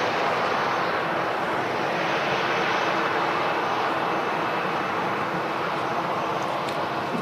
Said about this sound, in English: So Ryanair arriving from Paris